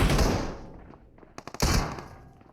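PUBG Mobile gunfire during a solo-versus-squad match on the Livik map: a quick cluster of sharp shots, then a louder burst of fire over steady game ambience.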